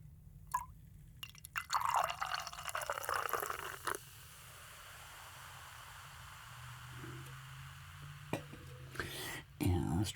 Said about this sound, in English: Let me freshen the glass a little bit here so I get a little pour action.